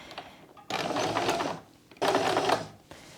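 Sewing machine stitching quilt block pieces for a bear paw quilt, in two steady bursts of fast, close mechanical whirring separated by short quiet pauses.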